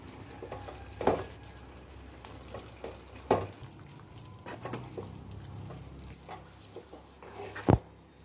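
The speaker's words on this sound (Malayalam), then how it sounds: "ഇത് നന്നാക്കി ഇളക്കി കൊടുക്കാം." A spoon stirs masala with chilies in a pan for fish biryani over a soft, low sizzle. Scattered scrapes and clunks sound close by, with a sharp knock near the end.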